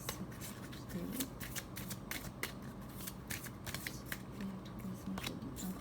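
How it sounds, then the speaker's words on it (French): Cards shuffled by hand in a steady, continuous riffle and rustle, close and fairly loud, with no talking over it. "Encore 2 cartes qui sont tombées."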